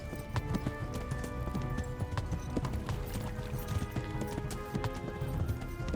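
Rapid, rhythmic hoofbeats of a galloping horse in the video game Kingdom Come: Deliverance, steady and close, with a faint whinny under a constant background.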